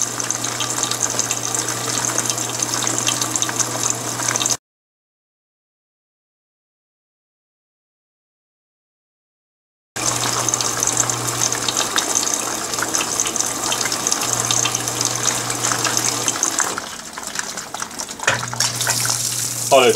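An Electrolux Perfect Wash 16 kg (LPE16) washing machine, loaded with bedspreads, sprays a strong steady jet of water onto the clothes. The gushing breaks off into silence partway through, then resumes with a low hum beneath it.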